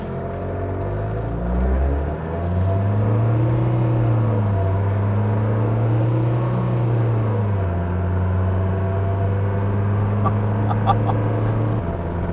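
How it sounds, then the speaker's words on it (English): A 1976 Mercedes W115 240D diesel accelerating at full throttle in drive, a loud close engine drone rising in pitch through gear changes and then holding steady, with faint clinks toward the end. "Now on this first run, I'm putting the transmission up in drive, and I'm just gonna floor it."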